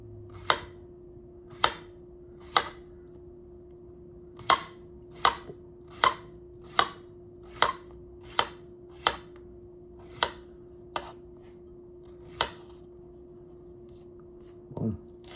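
Knife chopping vegetables for fajitas on a cutting board, about fifteen crisp evenly spaced chops, close and clear over a steady low hum, no voices.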